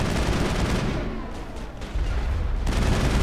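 Rocket blast in the Mass Effect video game, a dense, loud burst of explosive noise and gunfire-like crackle that eases briefly mid-clip before surging back at full force.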